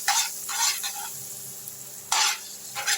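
Butter melting and sizzling in a pan for cauliflower rice, bursts of crackling hiss that swell and fade, close and fairly loud, with a quiet pause in the middle.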